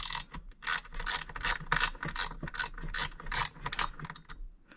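A hand ratchet clicks rapidly in repeated bursts while loosening lid bolts inside a 2014+ Toyota Tundra, close and clear with short pauses between strokes.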